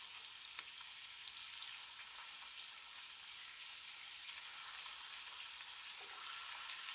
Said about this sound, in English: bacon sounds so good cooking